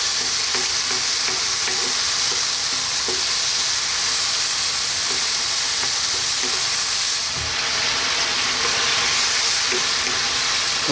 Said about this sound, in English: Okay, so these tomatoes are cooking down nicely.